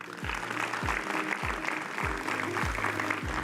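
Steady applause from a crowd at an agricultural public forum in Meerut, India, dense clapping throughout with a few low thumps underneath.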